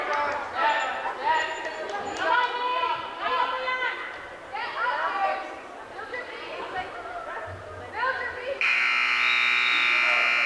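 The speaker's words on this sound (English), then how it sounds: "there's the buzzer for the end of the first period" A buzzer sounds at the end of the first period of a girls' varsity high school wrestling match, a long steady electronic tone near the end following a stretch of crowd chatter, shouts and whistles in a gym.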